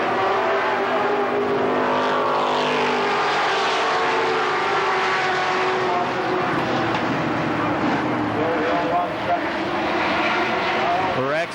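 Stock cars race at Kil Kare Speedway in a 1994 Door Closer event, engines roaring continuously at close range while a commentator talks over the noise throughout.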